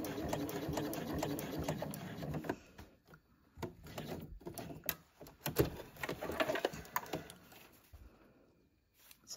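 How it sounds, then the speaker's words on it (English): A sewing machine stitches across a crossbody bag strap, running backwards and then forward over the same line in bursts of rapid, close whirring and clattering, with short pauses between runs before it falls quiet. "Then going to sew backwards, back across the same line, and then forward one more time."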